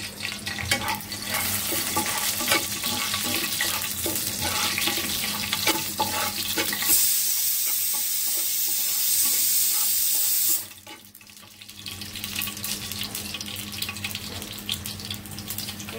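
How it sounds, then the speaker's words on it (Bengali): Onions frying in a pan with dried chilies, a close, steady hiss and crackle broken by a loud rushing burst in the middle before the sizzle settles back down. "পেঁয়াজটা লাল লাল হয়ে আসছে, এখন দিয়ে দিব পেঁয়াজ"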